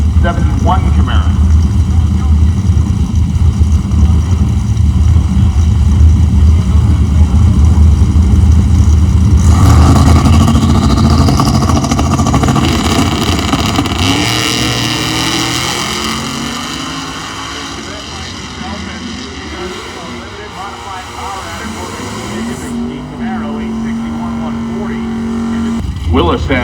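Drag racing cars at Hot Rod Drag Week, including a Mustang, roar loudly as an engine revs and accelerates past, the pitch sweeping upward and fading into a distant drone, with an announcer talking over it.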